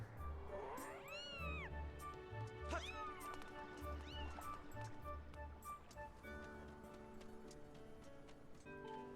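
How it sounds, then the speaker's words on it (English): Cat in The Legend of Zelda: Skyward Sword meows in Skyloft, with three or four rising and falling meows over steady game music. "The kitty that attacked me."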